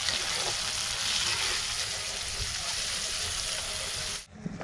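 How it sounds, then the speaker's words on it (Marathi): Onions and tomatoes frying in a pan for a tribal-style Bombay duck fry: a dense, steady sizzle running loud and close for several seconds before cutting off abruptly, with no talking. "हे बघा कांदा मस्त आपला भाजून झाला आहे आणि त्यामध्ये आपण टमाटर टाकले."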